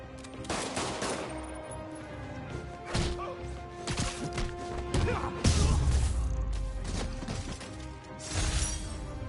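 Rapid bursts of gunfire crack through a Spider-Man PS4 game scene, with repeated loud shots and impacts scattered across the clip, one heavy thud near the middle, over a steady background score.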